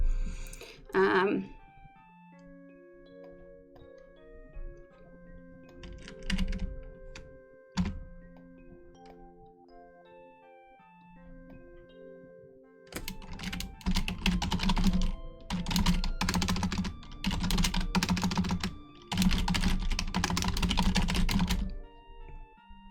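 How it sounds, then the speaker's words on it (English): Rapid bursts of typing on a computer keyboard during a pixel-art game development stream, coming in dense clusters in the second half over soft, plinking background music. "you're probably wondering what I'm typing"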